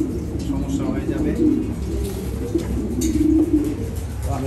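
Racing pigeons bought at auction coo repeatedly in a loft, their low throaty calls coming in several short bursts over a busy, noisy background.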